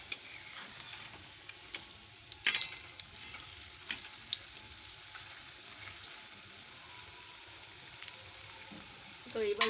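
Chilli chops (lanka chop) frying in hot oil, a steady bright crackling sizzle with occasional louder pops and spatters, no voices.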